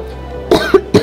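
A sharp cough followed by two more short coughs, close and loud, over a quiet hum.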